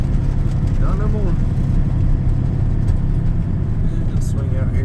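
Freshly repaired truck engine running under a load, a loud, steady low rumble filling the cab while someone talks over it.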